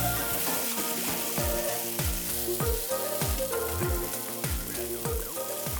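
Ground masala paste sautéing in a pan for chicken vindaloo, a steady close sizzle with repeated low knocks and scrapes of stirring throughout, no voices.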